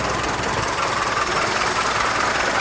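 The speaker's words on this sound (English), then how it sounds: "That's the Autovac cutting in. That's why the engine changes its tone." Morris Empire Oxford engine running with its Autovac vacuum fuel pump cutting in, a loud close continuous mechanical rumble with a shifting tone and no talk.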